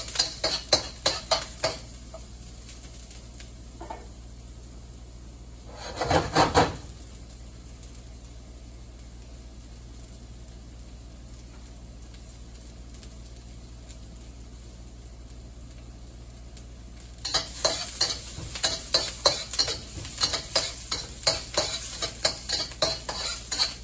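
Aromatics stir-fried in a pan for Chinese scrambled eggs with shrimp: bursts of spatula scraping and sizzling open the clip and return briefly around six seconds, a low simmer fills the quiet stretch, then dense, rhythmic stirring runs to the end.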